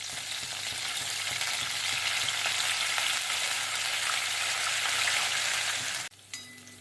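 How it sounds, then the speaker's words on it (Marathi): A pan of water with chillies heating toward a boil gives a dense, continuous hiss and bubbling sizzle that holds steady for several seconds, then cuts off abruptly near the end. "आता पाण्याला छान उकळी येऊ द्यायची आहे।"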